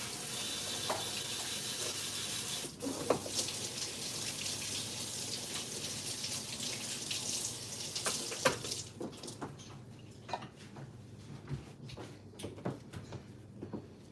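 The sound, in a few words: rinsing food under running tap water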